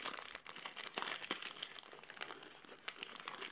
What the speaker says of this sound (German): Oh, jetzt muss ich doch mal knistern.